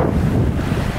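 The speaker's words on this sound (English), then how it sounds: "It's really windy." Strong wind buffets the microphone at a beach, a loud continuous roar with surf rumbling underneath and no voices.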